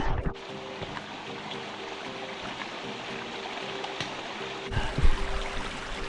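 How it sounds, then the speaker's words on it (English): A small waterfall on the Appalachian Trail gives a continuous, even rush of flowing water, with a brief rustle near the start and a louder bump near the end; no voices. "Those are Texas waterfalls."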